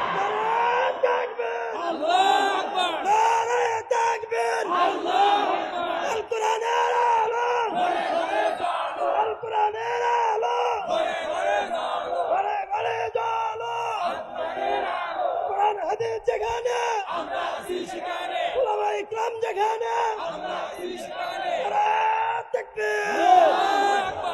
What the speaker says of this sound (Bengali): তাকবীরের ধ্বনি দিয়ে আল্লাহকে খুশি করে দাও, তাকবীরের ধ্বনি দিয়ে সবাই তাকবীর দেয়